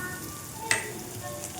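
A spice mix of salt, chili powder, turmeric, garam masala and coriander powder fries with tomato in a pan, a soft steady sizzle with one sharp crackle partway through.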